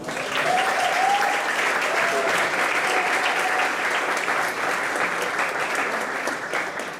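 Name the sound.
church congregation applauding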